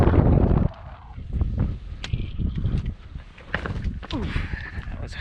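A strong gust of wind buffets the microphone on a mountain trail up Chocorua, then drops away to quieter footsteps and rustling while someone talks.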